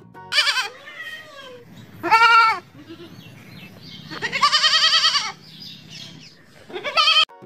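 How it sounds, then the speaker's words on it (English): A goat bleats four times, nearby and loud, in short wavering cries with quiet gaps between them and no talking over the calls. "G for goat."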